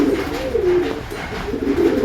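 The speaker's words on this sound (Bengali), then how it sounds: "এই যে আমার পায়রা" A pigeon at a breeding loft gives soft, low, repeated coos close by, a rolling throaty murmur that rises and falls several times with no talk over it.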